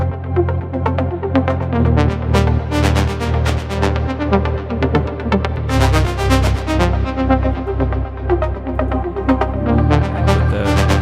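Layered drum sample group playing loud alongside Moog synthesizers, with a heavy sustained bass line and dense repeated percussive hits forming a continuous rhythmic mix with no talking.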